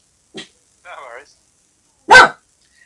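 A dog barks once sharply and loudly at close range after a couple of short, softer vocal sounds, in an otherwise quiet indoor setting.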